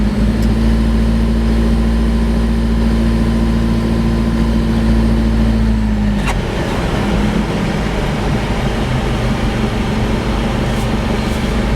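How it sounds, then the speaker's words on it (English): Inside the cab of a Jeep Wrangler converted to a 3.8L ISF diesel engine, a steady, muted low drone hums on throughout, its tone shifting about halfway as the engine note changes. "As you can tell, the engine is very quiet inside the cab of the truck."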